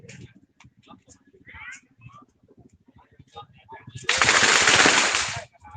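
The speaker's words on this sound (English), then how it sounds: "And the fireworks are starting." Fireworks at a street procession during the Vegetarian Festival in Phuket town, Thailand, erupting near and loud as a dense crackling burst for about a second and a half after a stretch of crowd chatter and talking.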